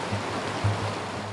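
Creek water in Mount Robson Provincial Park rushes steadily in a broad, close, even wash, the stream running high with glacial meltwater.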